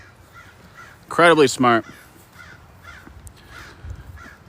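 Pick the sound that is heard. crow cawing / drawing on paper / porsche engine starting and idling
crow cawing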